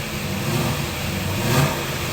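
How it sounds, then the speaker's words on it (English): A 1969 Chevrolet Camaro Z/28 with a solid-lifter DZ302 V8 revs steadily up close, its engine note holding loud and even with a slight swell near the end. "Nothing sounds like a DZ302"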